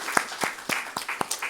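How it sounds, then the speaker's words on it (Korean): A church congregation claps to welcome a visiting missionary couple at a Sunday service, about six or seven separate, loosely spaced claps across a short burst, close and fairly soft, with no voices. "우리 오랜만에 오셨는데 우리 박수로 환영하시겠습니다"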